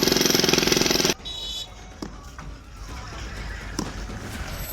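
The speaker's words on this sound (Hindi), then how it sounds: "दूसरी मशीन मस्जिद की दीवार पर ड्रिल मशीन चला रही है" A drill machine and hammer break down a mosque boundary wall, opening with a loud, rapid jackhammer rattle that cuts off abruptly, followed by scattered sharp knocks over a steady outdoor rumble.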